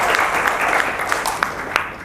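An audience at a motivational seminar applauds in a steady burst of clapping that thins toward the end, with a speaker's voice briefly over it.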